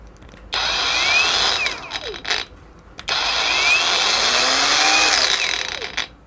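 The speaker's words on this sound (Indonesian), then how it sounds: "nah ya suara khas Grinda memang" A brushless cordless 21V angle grinder, a K6887-RPM, revs up to a loud high whine twice and then winds down each time, close by and with no talk over it.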